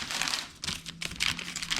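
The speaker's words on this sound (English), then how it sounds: "I'm just peeling off the wax paper here to reveal the new edge" Crinkly, papery peeling of wax paper off a boat centerboard edge, crackling in short bursts, close by and fairly quiet.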